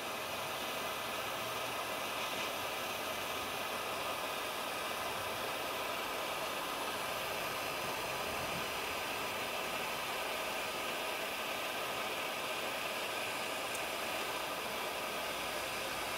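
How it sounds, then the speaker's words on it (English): A MAP gas torch hisses in a steady, even rush of broadband noise while heating welds, holding at a constant moderate level throughout with no talking. "I'm going to take a map gas torch here. And we're just going to heat those welds up."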